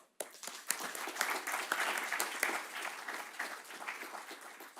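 Audience applause for the opening session speakers at a social business academic forum, with a burst of individual claps quickly swelling into sustained, moderately loud clapping across a hall.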